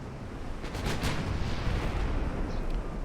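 Heavy naval broadside gunfire from warships in Ultimate Admiral Dreadnoughts, a dense continuous rumble of booming cannon blasts with a sea-like wash, steady and loud throughout with no talk.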